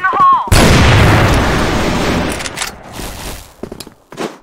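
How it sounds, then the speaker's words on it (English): A flash grenade detonates in the shooter game Crossfire, one loud sharp blast after a brief electronic tone, its roar decaying over about two seconds before short voice fragments and clicks follow. "Flash grenade."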